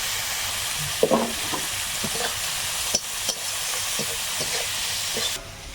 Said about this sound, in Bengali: একটু ভেজে নিলাম এবার চিংড়িটা দেব এর মধ্যে এখন লবণ আর হলুদ দেবো